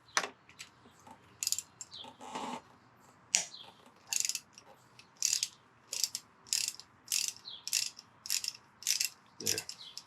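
A wrench ratchets on a fork leg clamp bolt of a 1985 Yamaha FJ1100 motorcycle, giving a series of crisp, evenly spaced metallic clicks in bursts, close by, with brief clinks between.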